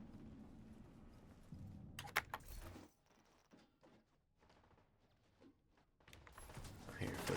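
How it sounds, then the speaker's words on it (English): Muffled footsteps from outside a closed room door, faint and distant, a few soft irregular thuds and shuffles over low indoor background noise. "I hear footsteps."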